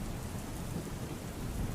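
Heavy monsoon rain pours in Surat, South Gujarat, a dense, unbroken roar of downpour with a low rumbling undertone and no voices.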